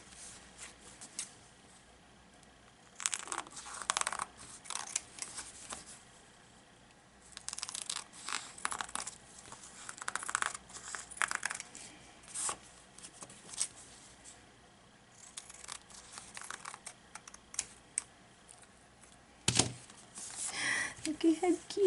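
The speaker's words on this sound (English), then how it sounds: "Now I'm going to trim." Scissors trimming Pellon interfacing into junk journal tags, giving close, intermittent snips and crisp rustling bursts, with one sharp thump near the end and talking in between.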